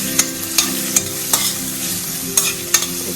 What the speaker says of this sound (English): I'm going to kind of saute them.